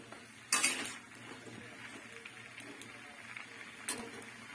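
Pumpkin curry stirred in a pan, two sharp metal ladle scrapes against the pan separated by a few seconds, with quieter scraping and a faint sizzle between them, no voices.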